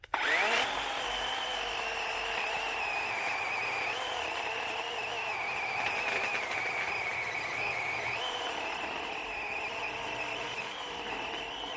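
A DeWalt electric chainsaw starts up and whines steadily and close while cutting through a tree trunk, its high motor tone dipping slightly under load throughout.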